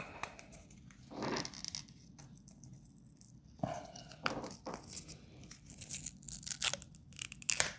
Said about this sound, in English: they made that picante seasoning hard to get into